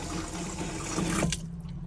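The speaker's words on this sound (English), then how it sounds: "pulling the water through here at the tap on hot" Water gushes steadily from a tap as a pump draws it through to fill the boiler of a Nu Venture Nu Rio Auto, then cuts off abruptly near the end.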